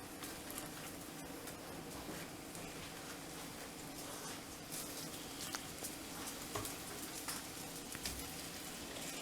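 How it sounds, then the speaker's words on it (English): A soft, steady sizzle of meat frying in a pan, with a constant crackle and occasional louder pops, no talking. "When you hear a nice little soft sizzle,"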